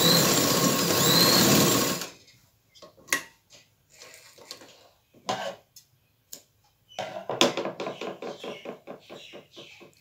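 A sewing machine works zigzag lace onto a dupatta, a dense run of stitching for about two seconds followed by scattered ticks and short bursts of stitches with pauses between them.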